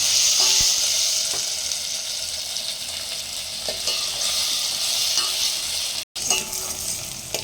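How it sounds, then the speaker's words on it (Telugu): Thinly sliced onions and green chillies fry in hot oil with a loud, steady sizzle that runs the whole time, broken by a few soft stirring clicks and one brief drop near the end. "మనం సన్నగా తరుక్కున్న ఉల్లిపాయలు ఆనియన్స్ సన్నగా తగిన పచ్చిమిర్చి ఫ్రై చేస్తున్నాము"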